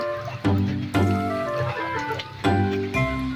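Chickens cluck close by in short bursts, with steady background noise and occasional thumps.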